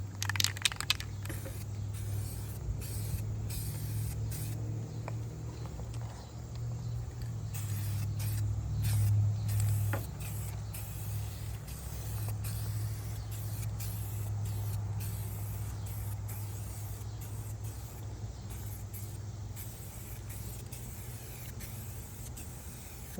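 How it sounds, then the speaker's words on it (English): An Eastwood premium spray can hisses paint onto a fiberglass bumper for a 1964/65 Mercury Comet gasser: a few short bursts, then a long steady spray over a low hum. "When I do this, I treat this stuff just like it's a paint gun. Now this is a premium spray can."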